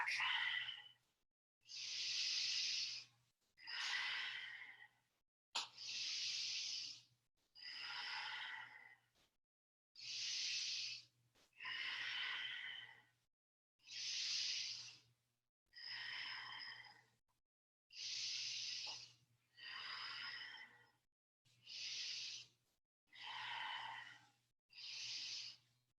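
Deep, forceful breaths during a Kundalini yoga Sufi grind, a dozen long airy inhales and exhales in a slow, even rhythm, close to the listener and alone, with brief silent gaps between each breath.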